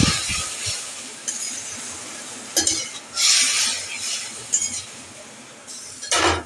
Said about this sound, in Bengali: এবার আমি এটাতে সামান্য পরিমাণে একটু জল দেব।